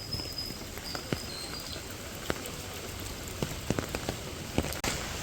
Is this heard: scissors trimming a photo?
no